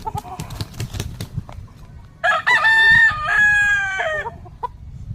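A friendly fighting rooster crows once, loud and close, in a long drawn-out call, with soft clucks and rustling before it.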